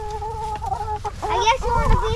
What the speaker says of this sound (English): why don't you put chicken down so Mr. Chicken can eat